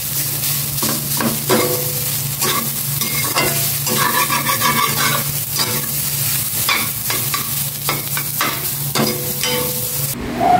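Rice fries in olive oil with a steady close sizzle, while a utensil stirs and scrapes the pan in repeated rhythmic strokes, with no voices.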